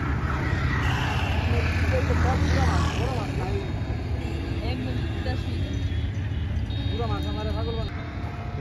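Steady roar of road traffic with many vehicles rumbling past nearby, a continuous wash of engine and tyre noise with people talking over it.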